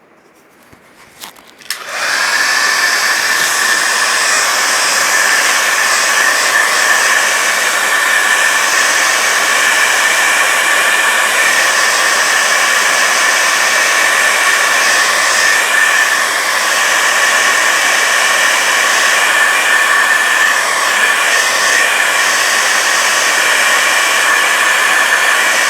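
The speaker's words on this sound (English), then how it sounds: "I like things to dry naturally for just a couple of minutes before I hit them with a hairdryer." A hair dryer blasts steadily at close range to dry a small watercolor painting, starting abruptly after a brief quiet moment and then holding a loud, continuous whooshing roar without a break.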